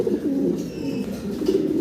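Soft, continuous cooing from a pair of Holy Copper pigeons, low and throaty, rolling on steadily without pause, fairly close and moderately loud.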